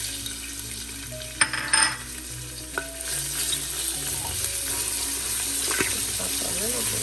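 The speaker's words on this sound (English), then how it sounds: "Allow the oil to heat, then start adding your onions, your ginger, and your garlic" Ginger and garlic frying in hot oil, with a steady, low sizzle and occasional stirring scrapes and clinks in a home kitchen.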